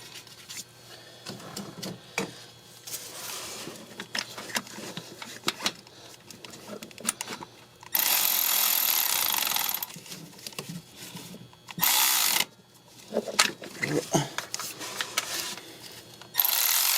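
A bolt is tightened during a thermostat installation on a 2010 Kia Soul, with close mechanical ratcheting and rasping bursts, two of them long and loud, separated by quieter handling noises.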